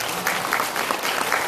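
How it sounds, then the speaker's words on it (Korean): A brief burst of audience applause at a Democratic Party group talk event in Seoul, dense overlapping clapping that is close and fairly loud. "박수 한번 주세요"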